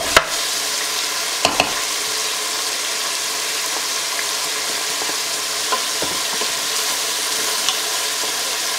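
Chopped onion, bell pepper and garlic cooking in a pan, giving a steady, loud, close sizzle with a few sharp clicks and scrapes from stirring, and no talking.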